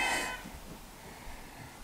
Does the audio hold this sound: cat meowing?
yes